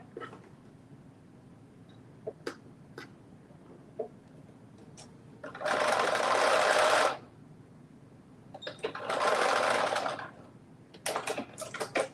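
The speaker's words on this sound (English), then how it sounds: "I have to go back and make sure I stitch that little open area at the end." A home sewing machine stitching fabric to close a small open seam end, two steady whirring runs of about a second and a half each, separated by light clicks and handling taps in a quiet room.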